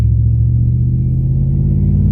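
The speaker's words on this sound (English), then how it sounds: "all you hear now is the Whipple and the exhaust, which I love." Supercharged truck engine fitted with a Whipple blower, running steadily with a deep, loud low rumble and the exhaust droning close by, with no one talking.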